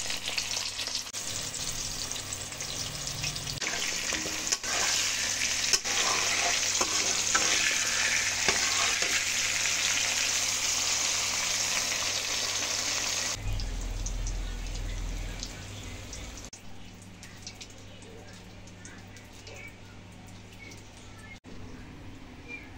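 Eggplant pieces drop into a pan of frying fish-head chhechra made with a katla head, setting off a steady close sizzle with occasional stirring scrapes. The sizzle quiets noticeably toward the end.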